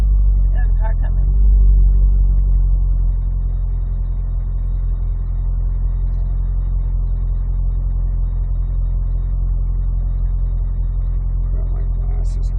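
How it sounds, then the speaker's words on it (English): Car approaching along a road, a steady low engine and tire rumble holding for several seconds, with faint sounds around it. "There's a car coming."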